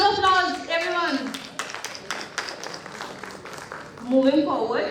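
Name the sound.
audience applause at a conference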